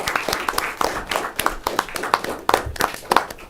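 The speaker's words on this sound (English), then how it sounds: "Let's give a round of applause to Mr." A small crowd claps at a school district board meeting, a sparse, uneven round of applause of moderate loudness that carries on for several seconds, with no talk.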